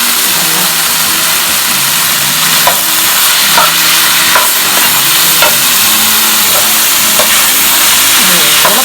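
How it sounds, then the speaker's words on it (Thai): Holy basil stir-fried over high heat in a pan, a steady loud sizzle with periodic scraping and clanking of a utensil against the pan, no talk. "ขาดไม่ได้นะคะต้องกดไฟแรงๆนะคะใส่กระเพราลงไป"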